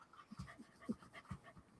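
Dog panting in quick, rhythmic breaths, faint and close, with no talk over it.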